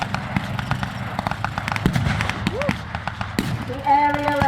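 WW2 re-enactment battle with German troops using grenades against the Allies: rapid sharp gunshot cracks and thuds in irregular bursts at middle distance, a short whistling tone near the end, a narrator's voice faintly under the fire.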